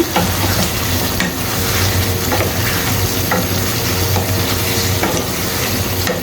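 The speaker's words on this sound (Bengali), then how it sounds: "আমি আবারও খুব ভালো মতো করে কষিয়ে দিচ্ছি যেন মাংসের ভিতরে সবগুলো মশলা ঢুকে যেতে পারে" Goat meat curry cooked village style is stir-fried with spices in a pan, with a steady sizzle and repeated scraping strokes of the spatula in an even rhythm, close and loud with no talking.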